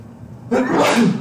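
A single sharp sneeze bursts out suddenly after a moment of quiet room tone, close and fairly loud.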